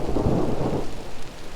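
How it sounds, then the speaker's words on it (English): Steady rain pours down during a thunderstorm on a hike, with a low, rumbling roll of thunder filling the background; a dense, continuous wash of sound with no voices. "It won't be the first time we've been caught outside in a storm."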